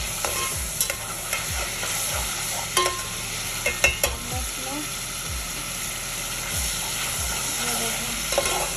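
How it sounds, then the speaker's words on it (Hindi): Garlic and ginger frying in oil in a pot for khichdi while being stirred, a steady sizzle with repeated scraping spoon strokes against the pan at a fairly regular rhythm, close and moderately loud, with no talk. "ये देखें लहसुन अदरक भून गया इसमें"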